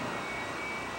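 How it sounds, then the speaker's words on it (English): A J34 Westinghouse jet engine powering a jet funny car at a drag race gives a steady, broad roar that fills the air without a break. "The car is powered by a J34 Westinghouse jet engine"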